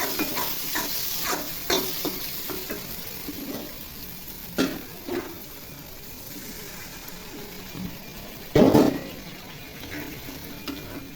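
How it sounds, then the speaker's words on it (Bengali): Water added to spice masala frying for prawn bhuna: a steady low sizzle with scattered stirring scrapes, then a sharp hissing burst near the end. "এখন পরিমাণ মতো পানি দিয়ে দেব"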